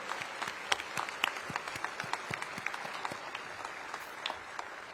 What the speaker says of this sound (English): give a round of applause to Jamie and everybody who worked hard to make today possible